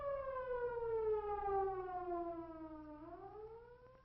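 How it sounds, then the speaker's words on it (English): An emergency siren wails in a slow falling tone, then begins to rise again, heard from a distance at moderate volume. "Always yield to emergency vehicles sounding their sirens or other signaling devices."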